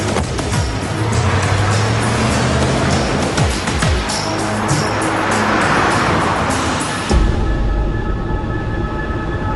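A car drives fast in a chase, its engine a steady close roar with passing road noise, ending in a sudden thump and lower rumble.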